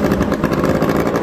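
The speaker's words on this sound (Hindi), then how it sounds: "तो ये बाकी मोटरसाइकिल स्टार्ट कर ले गाइस।" Motorcycle engine running at a death well stunt show in Pakistan, a loud, steady, rough mid-pitched rumble filling the whole short stretch without a break.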